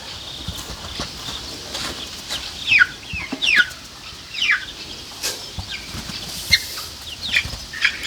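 Young adolescent chickens, grouped together with other chicks, cheep and cluck in short high chirps scattered across the scene, with occasional soft flapping and rustling in an outdoor farmyard with steady background noise.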